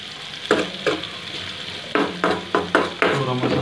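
Turmeric and spices sizzling in a pan of hot oil for a Marathi-style pasta, with several sharp bursts of frying hiss as the spices are stirred in, close and fairly loud.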